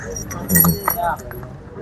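House keys jangle and clink briefly during the handover of a new home, a short metallic rattle heard over nearby voices and outdoor background noise.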